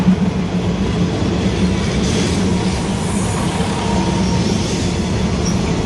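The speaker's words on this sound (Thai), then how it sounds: "เราจะมานั่งฟังเสียงรถไฟนะครับว่าจะเพาะขนาดไหนครับ" A train rumbles by continuously near a noodle shop at Talat Phlu, Bangkok, a dense low roar with faint rhythmic clatter, steady and fairly loud throughout.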